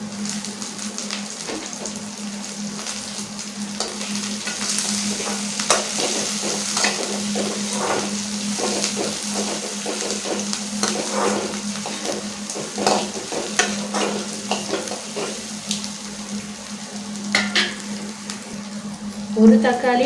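Chopped onion, ginger and green chillies sautéing in a pan for semiya upma, a continuous crackling sizzle with frequent stirring clicks and scrapes, a steady hum underneath and brief faint talk.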